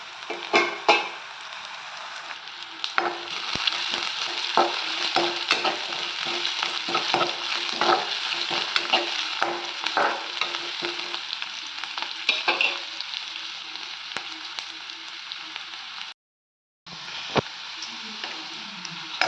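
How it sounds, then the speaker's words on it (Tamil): Green chili, garlic and curry leaves fry in a pan for a Tamil potato poriyal, giving a steady close sizzle with scattered crackles and stirring scrapes, broken by a brief silence near the end. "இப்போ நம்ம பச்சை மிளகாய், பூண்டு, கருவேப்பிலை சேர்த்துக்கலாம்"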